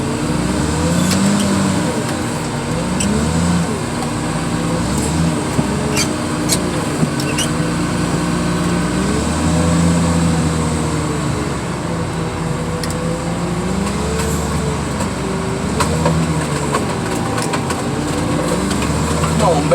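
A car-crushing machine runs with a steady idling engine drone and rising and falling hydraulic whine, loud and close, with occasional clanks and someone talking over it.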